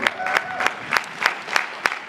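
Comic convention panel audience applauding a guest, a brief spell of moderate clapping with some crowd noise.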